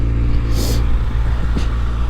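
A 2023 Kawasaki Ninja ZX-6R motorcycle on its stock exhaust idles with a steady, low, fairly quiet engine drone, close by, broken by a couple of short breathy hisses.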